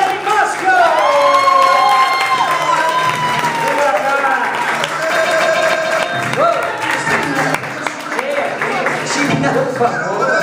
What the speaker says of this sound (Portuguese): Vou chamar uma salva de palmas desde já.